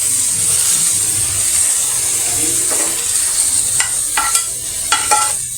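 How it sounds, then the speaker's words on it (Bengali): Taro and eggplant stir-fry in oil and spice paste in a pan, with a loud, continuous sizzle broken by a few sharp scraping strokes of the stirring utensil. "এখন আমি আবার এই কচু আর বেগুনগুলারে কষাবো।"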